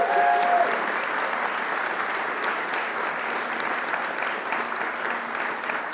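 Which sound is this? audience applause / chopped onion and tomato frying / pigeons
audience applause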